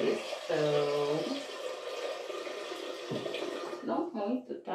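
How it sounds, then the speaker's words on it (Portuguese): Water pours from a tap into a small pressure cooker in a home kitchen, a steady close rushing stream that carries on for several seconds, with a brief spoken phrase near the start. "então eu vou colocar água nessa panelinha de pressão."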